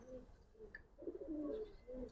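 Faint cooing from a Giribaz pigeon in a loft: a few soft, low, rolling phrases at a distance, with a brief chirp near the start and no talking.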